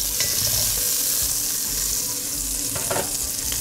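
Vegetables sweat and sizzle steadily in a hot pan, a continuous close crackling hiss with a few brief scraping stirs.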